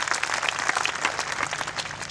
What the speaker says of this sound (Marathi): टाळ्या वाजवा.